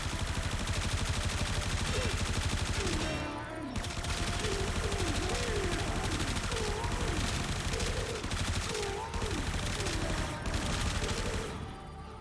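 Sustained automatic fire from the Supra, a Corpus weapon in Warframe, a fast steady stream of shots lasting several seconds with one brief pause, loud and close, with a voice talking over it.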